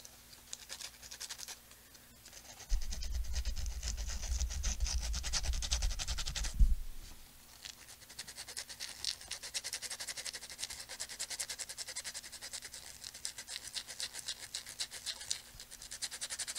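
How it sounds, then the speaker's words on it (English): Sandpaper rubbing over the bottom of an Audrey II plant prop, a close, steady scratchy scrubbing lasting about four seconds amid faint background rustle, with no speech. "wrap up the bottom with my sandpaper"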